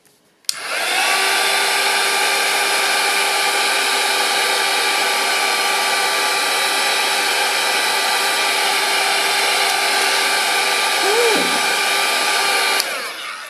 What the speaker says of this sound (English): So we'll heat it and see how it turns out.